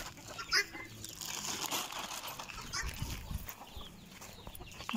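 Hens clucking while pecking at feed, soft scattered clucks and a short louder call, with faint rustling and scratching sounds close by and no speech.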